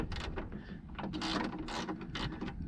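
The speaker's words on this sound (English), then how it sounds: "Apparently I've got to undo these 4 bolts" Quiet clicking and ratcheting of a socket wrench undoing 10mm bolts on a Triumph TR7 V8 window regulator, a stream of close, light metallic ticks and small knocks with no talk.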